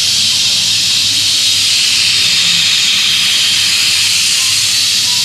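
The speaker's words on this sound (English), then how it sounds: "Push this little lever over, see the steam? And boom, let all the steam out." Steam blasts from a pressure cooker's release valve after its lever is pushed over, a loud, steady, close hiss that continues unbroken throughout.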